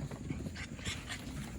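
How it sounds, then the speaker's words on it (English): Bigger dogs whining and panting close by in a short continuous stretch, eager to get out and play, with yips and whimpers rather than clear loud barks. "the bigger dogs are having a fit because they want to get out and play too"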